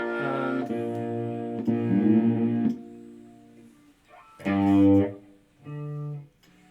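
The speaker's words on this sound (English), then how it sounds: "here's another twin reverb" Electric guitar through a Fender CyberTwin amp on a Twin Reverb setting, sustained chords ringing out with reverb tails, a pause, then two more strummed chords, loud and close with no talk.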